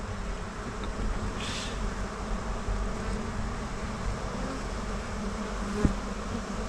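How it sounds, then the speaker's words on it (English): Honeybees from a rescued colony hum in a steady, dense drone close by, holding constant throughout with a brief sharp knock near the end and no voices. "So these are the bees that were under the thing back there"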